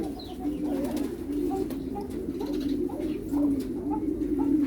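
Pigeons or doves coo repeatedly in soft, rhythmic phrases, fairly close, over a steady outdoor hum at a monastery grounds, with no talk over them.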